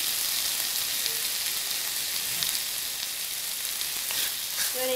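Onions and tomatoes with a pinch of salt frying in a pan, giving a steady, close hiss of sizzling oil that stays even and unbroken, with no voices.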